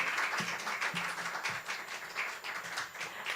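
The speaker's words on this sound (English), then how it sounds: "Let's give a round of applause to Jennifer Hasegawa." Audience applause for poet Jennifer Hasegawa at a poetry reading: steady, dense clapping from a room full of people, moderately loud and continuous throughout with no talking over it.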